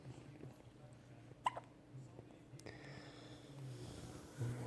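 An infant's hiccups: a couple of sharp, brief hiccups a second or so apart, close by, over a low steady background with soft voices murmuring.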